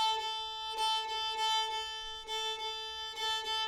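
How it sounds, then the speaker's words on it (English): An old-time fiddle plays a three-beat bowing pattern, repeating pulsed bow strokes in clear groupings over a sustained drone, close and fairly quiet. "this pattern that sounds like this"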